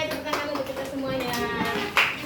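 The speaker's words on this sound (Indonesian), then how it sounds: "Oke, tepuk tangan untuk kita semuanya." Children and a teacher clapping hands together in a classroom, a few sharp claps over a bright, sustained voice and chatter, with one louder clap standing out near the end.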